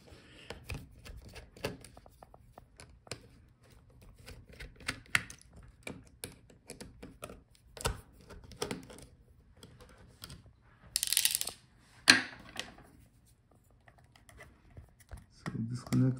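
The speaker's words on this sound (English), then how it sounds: "we have to unscrew the hinge screws" Hinge screws are unscrewed on a Lenovo Ideapad Flex 5 laptop: a close run of small, quick ratcheting clicks and light metallic ticks from the screwdriver, irregular and fairly quiet, with a few handling knocks and rustles.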